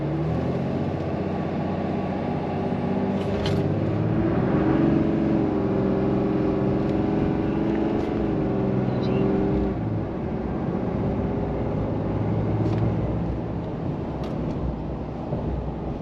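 A Dodge Ram diesel pickup truck accelerates hard on a 0 to 60 run, its engine note climbing steadily in pitch through the gears over a constant rumble of road and wind noise.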